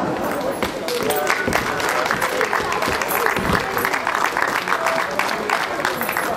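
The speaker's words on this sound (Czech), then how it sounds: "Můžete zatleskat." An audience at an Easter street performance on Prague's Old Town Square claps in dense, continuous applause that stays loud and steady throughout, with a faint murmur of crowd voices underneath.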